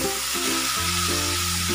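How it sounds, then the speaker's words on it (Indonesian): Chili spice paste sautéing in hot frying oil in a pan gives a loud, steady, close sizzle throughout, with faint tonal background music underneath. "Lanjut panaskan minyak goreng secukupnya,"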